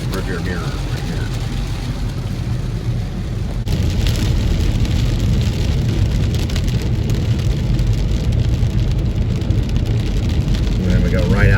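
Heavy rain drums on a car moving along State Highway 121 toward DFW, mixed with a dense, steady rush of road and tire noise that grows louder partway through, and a voice is faintly audible at times.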